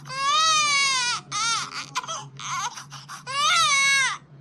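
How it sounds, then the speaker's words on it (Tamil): Newborn baby's cry in an animated village cartoon, loud and close: two long wailing bursts at the start and end with choppier sobbing whimpers between, over a steady low hum. "குழந்தை அழுவுற சத்தம் கேக்கு, குழந்தை பிறந்துட்டு நினைக்கேன்."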